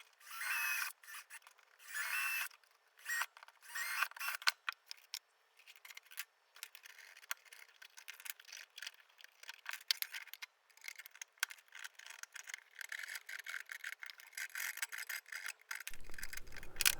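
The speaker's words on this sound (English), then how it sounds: "by just drilling some holes and then file it flat" A metal file rasps back and forth in repeated strokes, filing a drilled slot flat in metal, gritty and scraping, with short pauses between bursts; no talking.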